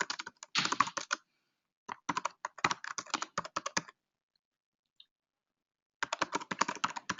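Typing on a computer keyboard, close and fairly quiet, in several bursts of rapid key clicks separated by short pauses.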